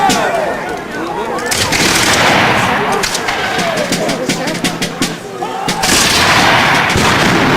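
Musket volleys crack and rumble at a reenactment of the Battle of Guilford Courthouse, with British and American lines firing. The sharp bursts overlap loudly amid crowd noise and shouting voices.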